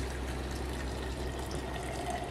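Water poured into a headlight polishing steamer, a steady, continuous close pouring wash with no talk.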